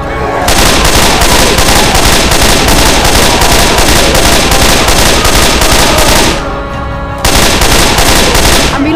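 Sustained automatic gunfire in Left 4 Dead 2, a loud dense rapid-fire burst lasting several seconds, a brief pause, then another heavy burst, close and overwhelming.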